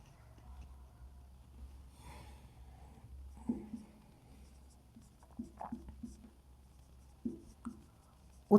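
Pen writing notes during a lesson, faint close scratching strokes in short bursts with a few taps, over a low room hum.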